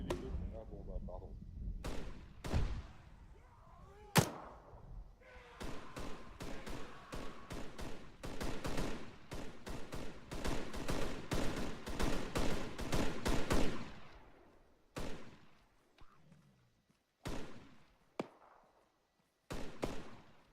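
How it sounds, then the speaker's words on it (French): Gunfire in a French-language tactical video game mission: scattered single shots and bursts build into a dense, loud volley over several seconds, then thin out to a few isolated distant cracks, with occasional low-level voice chatter. "Des coups de feu à droite"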